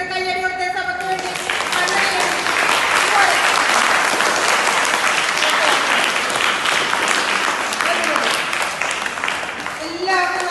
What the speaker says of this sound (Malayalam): ഒരു കയ്യടി കൊടുത്ത സഭയ്ക്ക് വേണ്ടി